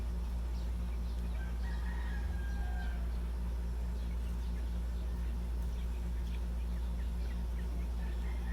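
A Rhode Island rooster crows once, mid-distance, over a steady low hum of farm background noise with faint chicken clucks around it.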